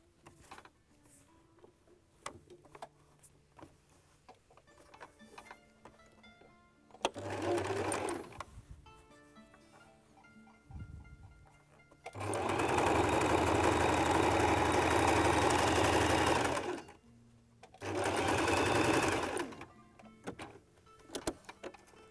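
A sewing machine stitches quilt strips together in short bursts, a close mechanical whirring that runs for a few seconds, pauses, then runs again, with quiet handling sounds between.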